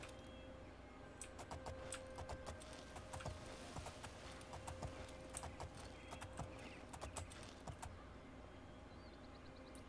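Horse hooves clip-clop at a steady walking rhythm in The Elder Scrolls IV: Oblivion, a quiet, even clatter over soft outdoor ambience.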